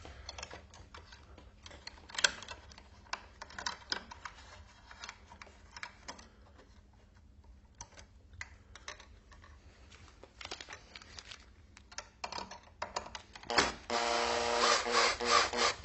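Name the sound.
screwdriver tightening a cable clamp onto a wire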